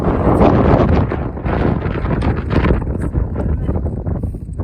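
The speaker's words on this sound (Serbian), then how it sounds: "mnogo duva vetra" Strong, gusty mountain wind in the Pyrenees roars continuously across the microphone, buffeting it with loud rumbling bursts throughout.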